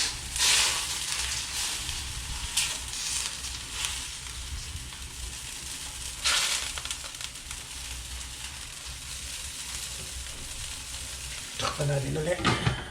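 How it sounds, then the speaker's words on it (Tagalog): Pork belly sizzles and crackles in its own fat in a pan, with occasional stirring and scraping sounds; a constant, close frying hiss. "hayaan natin siya maprito sa sarili niyang mantika"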